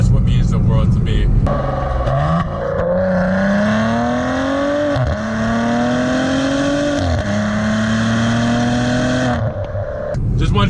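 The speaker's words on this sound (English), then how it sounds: "Just wanted to show you guys a couple quick blips to see what you thought" A 2015 Maserati Ghibli SQ4 engine rising through sustained revs from idle, rising and holding in several steady sweeps before dropping back, loud and close throughout.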